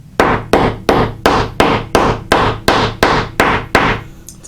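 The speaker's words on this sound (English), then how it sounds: "Just a nice little hammer does the trick." A small hammer sets rivets on a handmade Maysen bag with eleven evenly spaced, sharp metallic taps, each ringing briefly, close and loud with no talk.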